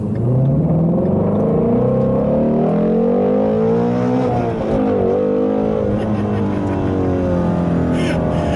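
A 2017 Ford Mustang Shelby GT350's 5.2-liter flat-plane crank Voodoo V8 revs up hard from inside the car, a loud sustained rising howl that dips briefly and climbs again.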